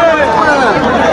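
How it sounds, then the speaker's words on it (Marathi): A dense crowd of pilgrims with the Dnyaneshwar Mauli palkhi procession in Dive Ghat gives off a constant, loud hubbub of many voices and shuffling, with a voice talking close by over it. "गर्दी बघा एवढी भयंकर अशी ना गर्दी चालली"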